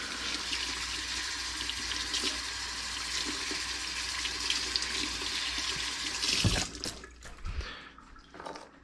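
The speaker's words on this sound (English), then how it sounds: "Let me rinse this off real quick." Garlic rinsed under a running kitchen tap, a steady loud rush of water that continues for several seconds before cutting off with a few clunks and drips.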